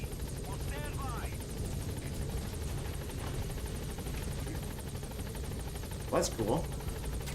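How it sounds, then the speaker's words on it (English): A helicopter in the video game Metal Gear Solid V drones with a steady, loud rotor and engine roar throughout, while someone speaks briefly and short radio-like chirps sound near the end. "I'll just get on the helicopter"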